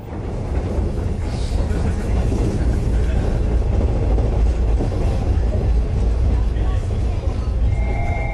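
Train running in Japan, a steady loud rumble with continuous rolling noise throughout, a few faint high tones near the end.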